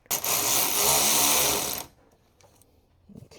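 A power tool drives bolts back into an aftermarket intake on a Toyota GR86, making a loud buzzing whir for nearly two seconds, followed by faint clicks and handling noises.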